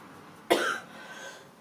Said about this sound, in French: Je suis désolée de tousser comme ça